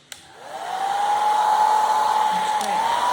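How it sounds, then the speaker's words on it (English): A hair dryer blowing hot air to melt and heat-shrink tape switches on and rises to a steady, loud whirring hum that holds for a few seconds. The sound is close and continuous. "all I use is my hair dryer to actually melt it"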